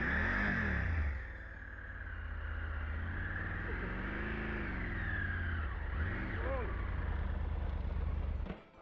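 A vehicle engine revs and strains steadily while slipping and sliding up a steep mountain track near Maletsunyane Waterfall in Lesotho, with pitch rising and falling as the wheels lose grip; a person talks over the engine noise.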